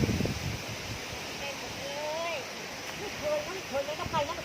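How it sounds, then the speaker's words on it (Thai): Storm wind roars steadily through a village during a tropical storm, a broad continuous rush with gusty swells, heard alongside faint bird chirps and distant voices. "นี่ครับดูความแรงของลม"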